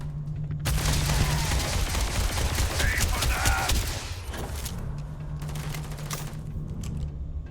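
Heavy gunfire and ordnance explosions in a Starfield firefight, a dense continuous barrage of rapid shots and booms that eases slightly midway then carries on, loud and close.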